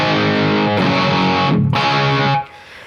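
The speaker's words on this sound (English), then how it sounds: "a relatively convincing-ish tube amp with a mic on it type of sound" A loud, sustained distorted electric guitar through an ART SGX 2000 Express preamp's tube-amp preset, with no reverb or delay, rings out with a thick, fuzzy tone, changes chord briefly midway, then cuts off sharply.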